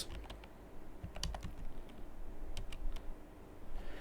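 A computer keyboard typed on while coding: scattered soft key clicks in short irregular bursts, close but quiet over a low background hum, and nobody speaks.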